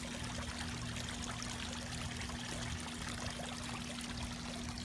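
Water from a garden pond waterfall pours and splashes steadily, a continuous close rush with no pauses and no voices.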